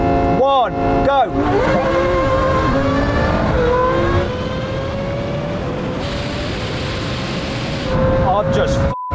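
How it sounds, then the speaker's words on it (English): A Formula 1 car, a 1200 hp Lamborghini and a 1300 hp Nissan GT-R Nismo make a rolling drag race start in second gear from about 50, with engines roaring and revving loudly as they accelerate, then a sustained high drone while voices talk over it. "Now we go for rolling race in second gear from around 50."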